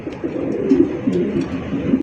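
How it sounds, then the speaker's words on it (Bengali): A male beauty pigeon coos beside its mate, giving a close, steady run of low, throaty rolling coos that continue without pause for about two seconds. "একদম দেখার মতো একজোড়া বিউটি কবুতর, নরের ডাক দেখেন"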